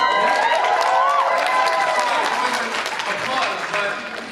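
Convention-panel audience applauding and cheering, a dense sustained wash of clapping with voices and a whoop or two rising over it, speech audible underneath.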